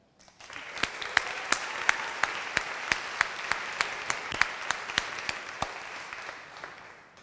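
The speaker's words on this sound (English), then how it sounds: "I would like it if we could applaud them" A ceremony audience at a fashion design and marketing recognition event claps steadily for students and faculty, a dense even patter with a few sharp individual claps standing out, heard alone with no talk.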